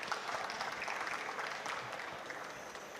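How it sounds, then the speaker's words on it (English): Faint but steady applause from a seminar audience at an air pollution and climate change assessment launch, continuous clapping heard at a distance. "Can we give another round of applause, please?"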